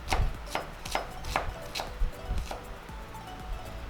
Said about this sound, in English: Want it nice and minced.